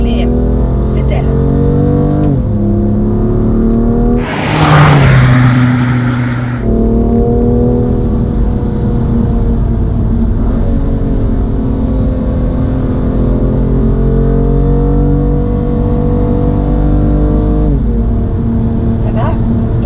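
A Manhart MH2 550, a tuned BMW M car, drones steadily from inside the cabin while driving, with a brief louder surge midway and people talking in French over the engine.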